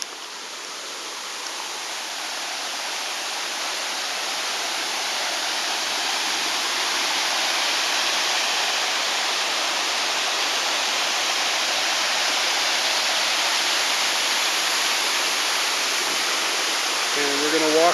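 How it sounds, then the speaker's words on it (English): A waterfall near Pakse, Laos roars steadily as a broad, constant rush of falling water heard from the top of the falls, loud and unbroken throughout, with a voice starting faintly at the very end. "So we're at the top of another waterfall."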